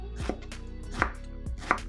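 Knife chopping eggplant slices crosswise into sticks on a cutting board, three sharp close taps spaced roughly evenly, with no talk.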